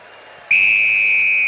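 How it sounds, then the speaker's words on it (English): At a rugby union test match, Argentina vs New Zealand in 2005 at Vélez Sarsfield stadium in Buenos Aires, after a brief quiet moment, a referee's whistle gives one long, loud, shrill blast. "Referee sounds the whistle and the test match is underway"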